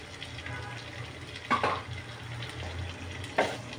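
Chicken and onions fry in oil in a pan, a soft steady sizzle underneath two distinct clattering stirs or utensil knocks, heard close and fairly quiet.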